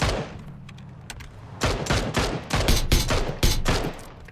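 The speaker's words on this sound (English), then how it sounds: "I'm getting shot from up the hill" Gunfire in the battle-royale game PUBG: Battlegrounds, with dense bursts of rapid shots and machine-gun fire that grow louder and more intense, ringing close and sharp without any speech.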